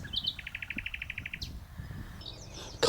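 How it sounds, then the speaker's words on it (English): A nightingale sings on a morning branch outdoors, a rapid run of about a dozen evenly spaced bright repeated notes followed by a short sweeping phrase and scattered calls, over faint background rumble. "I'm watching a nightingale sing on a little branch on a beautiful, beautiful morning."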